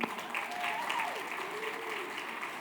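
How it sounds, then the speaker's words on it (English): Warm audience applause for models at an evening fashion show, steady, moderately distant clapping under a faint tone and murmur throughout. "Let's give a very warm welcome and applause to all of our beautiful and inspiring models tonight."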